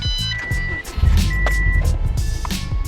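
A Subaru WRX with a check engine light caused by Seafoam is started after an ECU reset: a few electronic chime tones, then the engine cranks and catches into a steady, close idle rumble.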